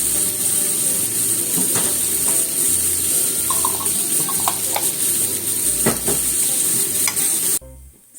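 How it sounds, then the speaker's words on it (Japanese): Mushrooms and tomatoes stir-fry in coconut oil in a pan, a continuous close sizzle broken by scraping stirs, before the sound cuts off abruptly near the end. "それをね、ココナッツオイルで炒めてみましたよ。"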